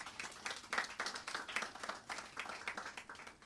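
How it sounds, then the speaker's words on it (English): A gathered audience at a National Librarian Day celebration applauds the public library's librarians, a continuous rapid clapping heard alone at a fairly distant, soft level. "A round of applause, please."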